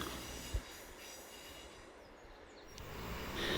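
A passenger train on the Tamar Valley Line rolling into the 117-yard Devonport Tunnel near Dockyard station: a faint, low rumble with one short knock early on, building gradually louder toward the end.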